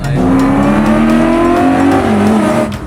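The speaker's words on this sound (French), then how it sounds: "Oh mais il y a une roue qui patine un peu." A BMW 335i accelerates hard with a rear wheel spinning, its engine note rising loud and close in one continuous pull, with a faint tire squeal underneath and no talk.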